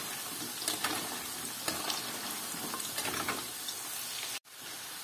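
Tatar baursak dough fries in oil over medium heat with a steady, close crackling sizzle and occasional soft stirring sounds. The sizzle cuts out abruptly near the end.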